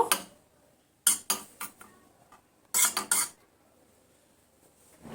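Milk powder and rose water are whisked in a bowl, giving clinking metal-on-bowl strokes in two short bursts separated by quiet pauses, fairly close and with no voices.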